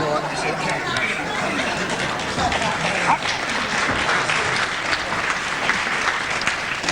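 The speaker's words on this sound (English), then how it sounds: "Appreciative applause from the crowd here." A wrestling crowd at a 1976 bout applauds appreciatively, a steady wash of many hands clapping throughout with murmured chatter mixed in.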